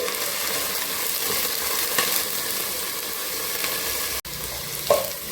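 Ginger-garlic paste fries in a pan for tomato rice, making a continuous close sizzle with soft stirring, a brief dropout and a small clink near the end.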